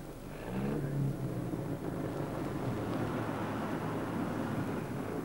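Jaguar D-type race car on the starting line at Le Mans in the rFactor 2 racing game: a low, steady engine rumble at idle, fairly quiet and without speech.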